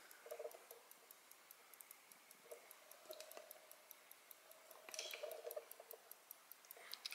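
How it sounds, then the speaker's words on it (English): A Schatz maritime clock, an 8-day, 7-jewel ship's clock, ticks faintly in a steady, even rhythm across the whole stretch. A few slightly louder handling sounds come through in the middle. "I can hear it ticking, but it's just barely."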